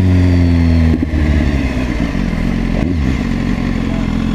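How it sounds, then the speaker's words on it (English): Honda CBR 1000 motorcycle, a new one, passing on a road with its engine revving loudly and steadily, the pitch shifting as it goes by. "He's on a CBR 1000. completely new one by the looks of it."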